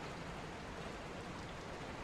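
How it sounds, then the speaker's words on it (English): Rain falling in a steady, even hiss, soft and continuous throughout with no distinct drops or voices standing out. "let the rain wash over you"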